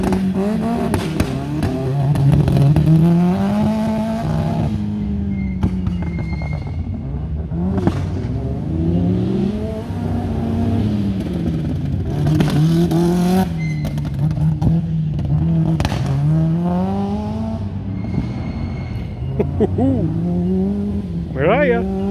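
A turbo all-wheel-drive Subaru BRZ/86 at a motorkhana, its engine repeatedly revving up and dropping as it accelerates through the course, fairly close and loud, with some shouting over the engine.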